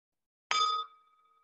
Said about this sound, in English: I'm going to ring the bell, then we enter silence.